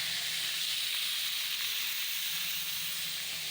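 Oil hissing and sizzling steadily in a wok as onions fry, a constant bright rush of sound with no talking.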